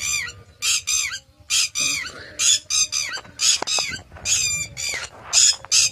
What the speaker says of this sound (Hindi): यहाँ पर ये पंछी हैं जो अपनी आवाज़ें निकाल रहे हैं